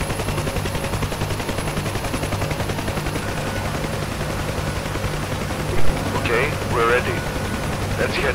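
A UH-1H Huey helicopter in the DCS flight sim thrums with a steady rotor chop and engine drone throughout, with a brief mechanical clunk and a few faint radio-like tones near the end.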